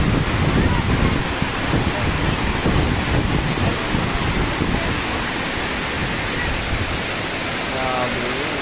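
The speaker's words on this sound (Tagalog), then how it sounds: "mahangin." Strong, steady wind gusting across an open microphone at Wawa Dam, a broad roaring rush with possible water noise beneath, continuous throughout.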